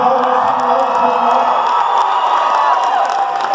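A large crowd at a political rally speech at a university in El Paso cheers and whoops loudly and continuously, a dense wall of voices and scattered claps filling the whole stretch.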